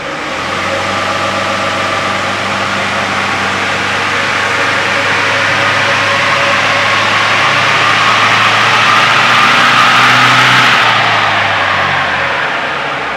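A tuned diesel car engine on a test run holds a loud, steady drone that swells gradually as it is run up, then eases off near the end, with no voices.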